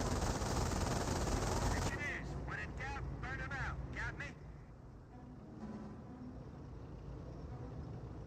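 MG42 machine gun firing in Company of Heroes, a loud sustained burst at the start that gives way to quieter battle sounds, with a voice commentating over it.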